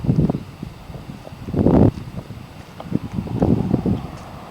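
Strong gusty wind ahead of a storm in Tucson, Arizona, rushing through the tops of trees: loud, uneven surges of roaring air and microphone buffeting swell and fade, with no talking.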